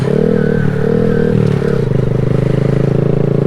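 A 2020 Honda Grom motorcycle being ridden, its small engine droning loud and close with a steady buzzing note that dips and shifts as gears change, wind rushing throughout.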